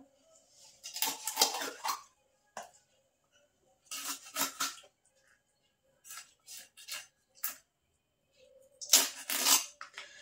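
Knife work on a rohu fish being cut into pieces, heard as clusters of sharp clicks, taps and scraping knocks in short bursts separated by quiet gaps, close and without speech.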